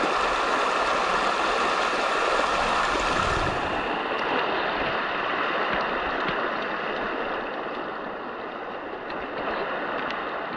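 Waterlily portable water turbine spinning unattended in a flowing stream, giving a steady broadband rush of water with a faint whirring hum, continuous and close, easing slightly in loudness toward the end.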